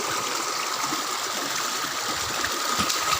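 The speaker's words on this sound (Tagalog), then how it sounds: "Lakas ng tubig, oh." A strong river rushes in a steady, loud, unbroken roar of flowing water close by, with no voices over it.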